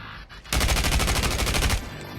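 A loud automatic burst of Counter-Strike gunfire: a rapid string of about a dozen sharp shots over a second or so, close up, leaving a faint tail of ambient game noise.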